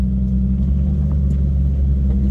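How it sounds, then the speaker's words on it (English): A lifted Jeep on 35-inch tires with a transfer-case doubler rock crawling slowly through a canyon, a constant deep engine drone with faint scrapes and knocks over it. "I've also got a doubler on my transfer case, so just nice and slow rock crawling through here."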